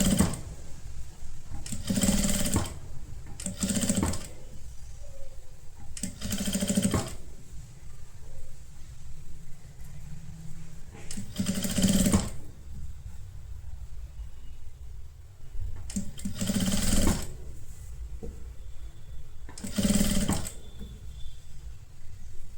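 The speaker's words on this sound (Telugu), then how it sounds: "ఇలా కుట్టినాక ఇది ఫోల్డ్ చేసుకొని లోపలికి ఒక స్టిచ్ చేసేసుకోవాలి." A sewing machine stitches a folded seam on an A-line kurti in short separate bursts, each a second or two long, spread across quiet stretches of faint room noise.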